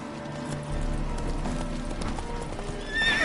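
A horse trots with steady clip-clop hoofbeats and gives a shrill whinny near the end, close and fairly loud.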